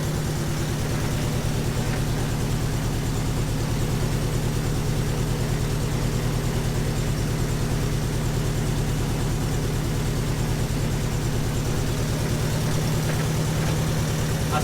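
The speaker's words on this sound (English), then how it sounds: "it's making turbo noises on idle" A turbocharged car engine idles steadily, with a low pulsing drone and a faint whistling turbo whine on top, constant and close for the whole stretch with no voices.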